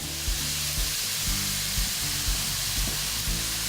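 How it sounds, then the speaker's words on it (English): Chopped onion sizzling with beef in a hot pan for a cheeseburger pie: a loud, steady frying hiss close by, with regular soft scrapes as the mixture is stirred. "I'm going to take my 1 medium chopped onion and throw it right in there."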